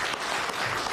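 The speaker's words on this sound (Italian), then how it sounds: "raccogliamo un applauso" Audience applause rises steadily at a televised public event, a dense, even patter of many hands clapping for a doctor being introduced.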